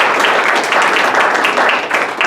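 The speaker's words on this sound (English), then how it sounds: "So I wonder if we could just give like a quick round of applause." A full audience at a Johns Hopkins University competition applauds the judges and speakers: loud, thick, continuous clapping from many people close by, holding steady throughout.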